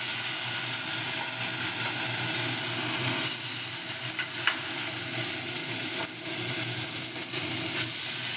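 Pumpkin fritters frying in hot oil, a steady close sizzle and crackle running unbroken throughout with no voices.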